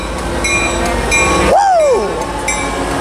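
Train 18520 approaches Fullerton station with a steady rail rumble and a swooping horn-like tone midway, near and fairly loud, while a voice speaks faintly.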